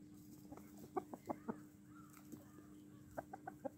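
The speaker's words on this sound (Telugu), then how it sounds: "ఇక్కడ ఉన్న పెట్టలన్నీ కూడా గుడ్లు పెట్టినాయి, మళ్ళీ గుడ్డుకి రెడీ అవుతున్నాయండి" Laying hens clucking in a backyard coop, a series of short, soft clucks in two small bursts, faint and fairly close against a low steady hum.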